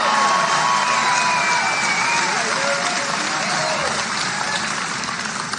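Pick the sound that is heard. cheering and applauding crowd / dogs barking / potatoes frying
cheering and applauding crowd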